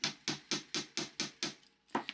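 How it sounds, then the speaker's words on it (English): A metal pendant struck with a hammer: seven sharp, evenly spaced ringing blows about a quarter second apart, then a short pause and one more strike, close and clear with no talking. "I'm going to hammer it a little bit"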